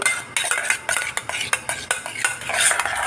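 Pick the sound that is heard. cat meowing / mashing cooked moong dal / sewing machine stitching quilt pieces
mashing cooked moong dal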